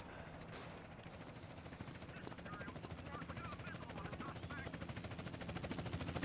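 A helicopter's rotor chops in a rhythmic, pulsing beat in Grand Theft Auto San Andreas, growing steadily louder and nearer, with faint gunfire-like bursts mixed in.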